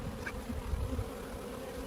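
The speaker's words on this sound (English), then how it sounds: "Still a lot of bees in there." Honeybees hum steadily around a hive, a close, continuous buzz with a faint flutter of wings passing near.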